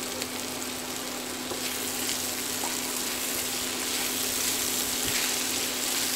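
Mixed vegetables with baby corn and green chili frying in a pan with little oil for a Chinese-style curry, giving a steady, close sizzling hiss with occasional faint stirring clicks and no voices.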